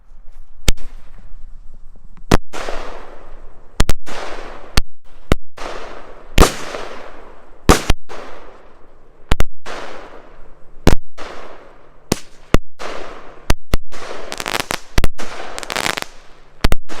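A 16-shot Classic firework cake fires at a Halloween display, sending out a long run of loud, sharp bangs, each trailing crackle. The shots come in an irregular rhythm and cluster into rapid volleys near the end.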